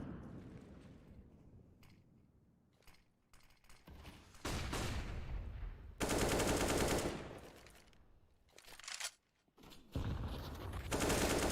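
Bursts of automatic gunfire in a CS:GO match, loud dense volleys and rapid shots in several clusters with brief gaps, close and dominant.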